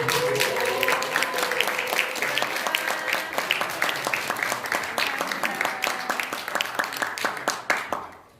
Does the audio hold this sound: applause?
yes